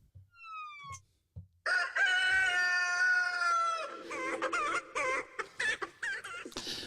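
Chicken crowing in a long, loud cock-a-doodle-doo, followed by a run of sharp, clipped clucks, close and alone without talk.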